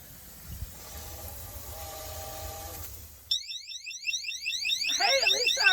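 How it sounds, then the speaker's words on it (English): An electronic water-leak alarm sounds inside a 4x4 Freightliner ambulance converted into an expedition vehicle. It is a rapid, warbling, high-pitched electronic beeping that starts abruptly after a low background hum and grows louder toward the end. "at least our water alarm works"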